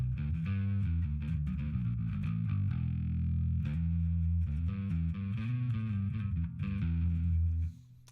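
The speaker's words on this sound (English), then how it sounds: "it has that distortion in it." Electric guitar picked through Pod Go distortion, playing a continuous chordal riff with steady sustain for about seven seconds before cutting off near the end; loud and alone, with no voices.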